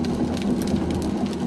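Steady rain patters on a car while driving on a wet road, a dense continuous hiss with a low road rumble underneath and no voices.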